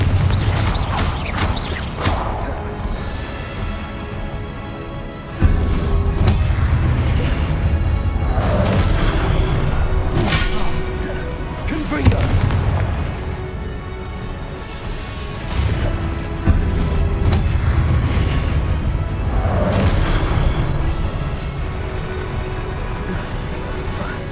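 Confringo fire spells exploding in Hogwarts Legacy, a string of loud booming blasts with whooshes and rumbling crashes over dense game sound.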